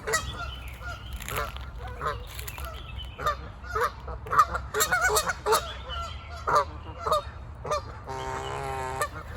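Repeated goose honks at the Los Angeles County Arboretum, loud and close, come in irregular bursts, ending in a longer nasal call.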